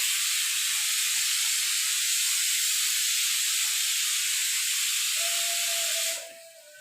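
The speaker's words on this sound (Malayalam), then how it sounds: "കടലയും ചോറും കിടന്ന് വിസിലടിച്ചുകൊണ്ടിരിക്കുന്നു" A pressure cooker of chickpeas and rice on a home stove vents steam in a loud, steady hiss for about six seconds, then cuts off, leaving a faint thin tone.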